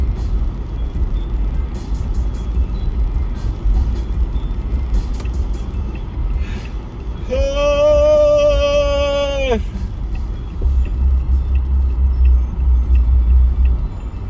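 A Nissan car engine rumbles steadily throughout, with a harsh whining tone rising over it for a couple of seconds before the engine noise settles back.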